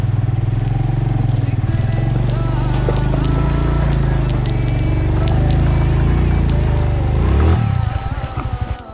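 A motorcycle labors up a steep, dangerous mountain track in Neelum Valley, Azad Kashmir, its engine droning loudly and steadily while it is pushed uphill, with clinking and scraping near the end as the drone drops away.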